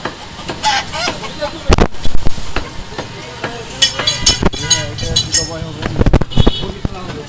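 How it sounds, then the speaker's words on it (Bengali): A fighting rooster at a busy meat shop in Mirpur 11, with sporadic clucks and crowing mixed into loud nearby chatter and market bustle, voices talking throughout. "এই যে আবার নিয়ে আসছে ফাইটিং মুরগি"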